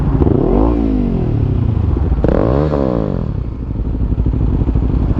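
A 2020 KTM Duke 390 motorcycle engine revs loudly up close, rising in two sharp throttle blips that swoop up and fall back, then settling into a rough, throaty idle.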